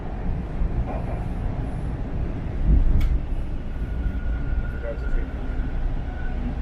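A Toronto subway train pulls into a station with a steady low rumble and rattle of rail cars, plus a faint tone and a brief squeal partway through.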